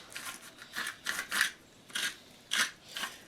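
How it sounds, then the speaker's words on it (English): Salt and pepper grinders from Becko crank over raw meat in a series of short gritty rasping bursts, about six separate grinds spaced irregularly, close and fairly quiet with no talking. "And we have to salt and pepper the meat."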